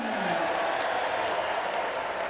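A rugby crowd at an Exeter Chiefs versus Newcastle Falcons Challenge Cup match applauds the man of the match, steady dense clapping from a large stand lasting a couple of seconds.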